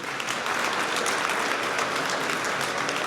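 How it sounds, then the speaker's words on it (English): Guests at a mayor's charity fund gala break into continuous applause, a thick wash of many hands clapping steadily throughout. "So give yourselves a round of applause."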